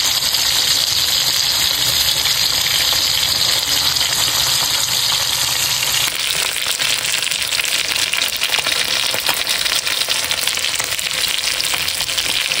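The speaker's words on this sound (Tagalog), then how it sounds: "Habang ako po yung nagpiprito ng isda" Cleaned river fish frying in a pan of hot oil, a loud, steady, dense sizzle and crackle that runs close and unbroken throughout, with no talking.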